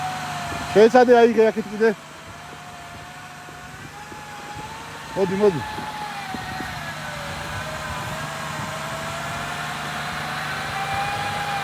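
During a rescue near Didgori, a stuck vehicle's engine drones steadily and its pitch rises and falls slightly as it is revved, while men call out over it at close range.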